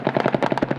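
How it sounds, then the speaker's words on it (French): Rapid bursts of automatic gunfire crackle back and forth as Daesh fighters on a hilltop trade shots with Kurdish fighters, a dense, loud string of cracks with no pauses. "Les tirs du haut de la colline proviennent des positions de Daesh. Les Kurdes répliquent aussitôt."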